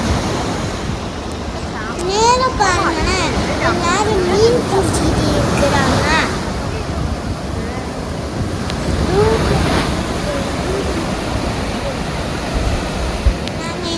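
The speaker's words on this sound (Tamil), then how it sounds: "அலையோட சவுண்டு பாருங்க, ரொம்ப சவுண்டாக இருக்குது." Ocean waves crash loudly and continuously onto a beach at Kilakarai, with heavy wind buffeting the microphone, while people talk over the surf.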